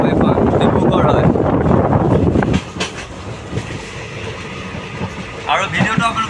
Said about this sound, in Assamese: এতিয়া ট্ৰেইনত গৈ আছোঁ